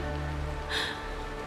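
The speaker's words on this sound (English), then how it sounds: "This is the sound of rain." Steady soft patter of rain falling, with a brief brighter burst of splashing midway; no voices.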